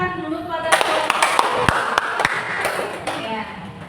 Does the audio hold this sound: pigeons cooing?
no